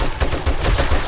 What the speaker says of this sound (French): C'est plus de M60 dans le tas, ça clean bien quand même.